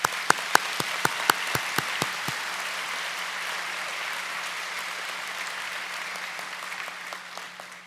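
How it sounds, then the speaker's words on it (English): Dense audience applause fills a high school graduation ceremony, opening with a few sharp loud claps before settling into a steady, even wash of clapping that fades slightly near the end. "Please join me in giving them a round of applause."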